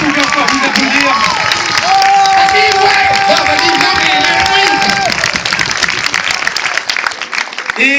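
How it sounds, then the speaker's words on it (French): Audience at a film premiere in Montluçon applauds and cheers loudly, dense clapping with whistles and shouts, tapering off toward the end while a voice speaks over it. "Et vous pouvez encore vous applaudir."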